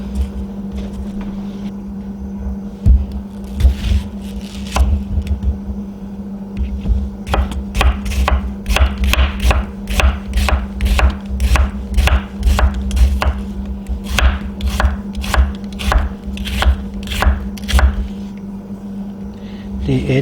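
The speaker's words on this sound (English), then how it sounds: "let's try it on an actual bit of food here. Oh, that's a tough onion root." A freshly sharpened santoku knife slicing through a tough onion root on a board, a rapid run of crisp, evenly spaced cuts close by over a steady low hum, with a few scattered knocks before the rhythm starts.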